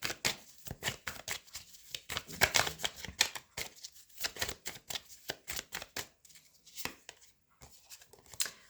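Tarot cards shuffled and drawn by hand, heard up close as quick papery riffles, flicks and slaps in irregular bursts with short gaps, with no voice present.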